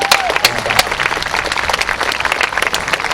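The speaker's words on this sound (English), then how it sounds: "Let's give them an applause to all the staff." Students and audience at a high school graduation applaud the school staff, producing a loud, continuous patter of many hands clapping with crowd noise mixed in.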